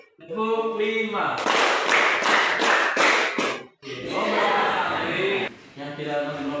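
A vocational high school class claps in a rhythmic patterned cheer, several quick bursts of hand claps close together, broken by short pauses, with a voice and some laughter before and after.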